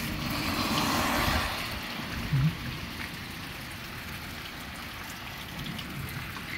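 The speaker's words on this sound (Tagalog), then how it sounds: "Ito yung unang ulan na malakas." Heavy rain pours down steadily during a severe thunderstorm, a dense, continuous hiss of rainfall that swells slightly at the start and holds even throughout, with one brief low knock partway through.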